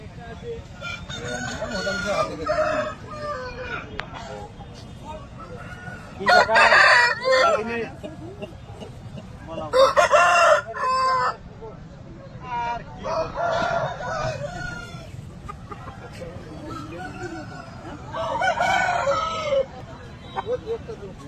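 Aseel roosters crow in repeated loud, close bursts with clucking between calls, over a low hum of farmyard background noise.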